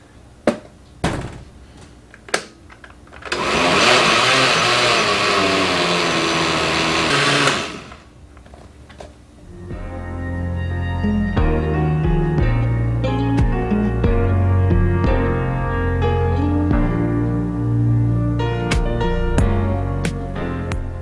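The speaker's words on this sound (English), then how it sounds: "By putting it in the blender, it kind of made it foam up like a mousse." Kitchen blender whirs loudly for about four seconds while pureeing mountain soursop fruit with a whole lime, preceded and followed by clunks and knocks of handling, then bright ringing tones of music.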